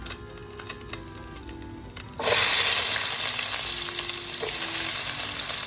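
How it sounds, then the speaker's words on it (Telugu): Chopped onions hit hot oil in a pan for an egg and drumstick curry. After two quiet seconds, a sudden loud sizzle bursts up and then holds as a steady, close frying hiss. "ఇదే నూనెలో కట్ చేసి రెడీగా పెట్టుకున్న ఆనియన్ ఉన్నాయి కదా, వాటిని అయితే వేసేసుకోవాలన్నమాట."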